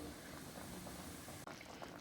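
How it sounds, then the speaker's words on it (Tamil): Fenugreek, mango and tamarind kulambu curry boiling in a pot, a quiet steady bubbling and simmering heard close, continuous with no voices. "இது நல்லா கொதிச்சோன்னு காமிக்கிறேன் பாருங்கள்"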